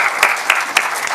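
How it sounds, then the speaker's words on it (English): Brief burst of audience applause at the close of a talk on generative AI in media, dense clapping from a seated crowd, loud and close, lasting just over a second. "Big applause."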